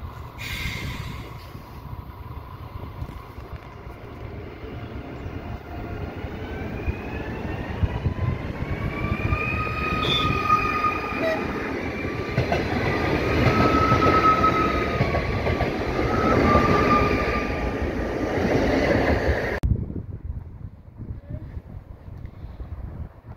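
A train on the Riga–Krustpils line in Riga, Latvia rolls along the rails with a steady heavy rumble and rising metallic squeals, loud and close, then the noise cuts off abruptly near the end.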